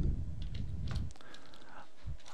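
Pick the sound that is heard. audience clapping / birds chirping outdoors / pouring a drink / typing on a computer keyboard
typing on a computer keyboard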